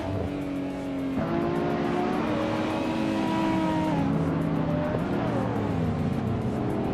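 Nissan Skyline R32 race car in a racing video game, its turbocharged RB26 engine droning loud and steady, pitch climbing and shifting through gears with no pauses.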